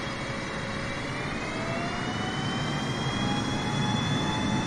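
Boeing 737 jet engines in Microsoft Flight Simulator at steady power, a continuous loud roar with rising high-pitched turbine whine, heard alone with no talk.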